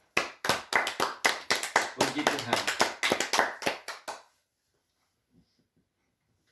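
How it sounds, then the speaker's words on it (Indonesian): A small church congregation claps hands in praise, a rapid, close and fairly loud burst of about thirty claps over four seconds, then near silence with a brief spoken phrase. "Tepuk tangan untuk Tuhan"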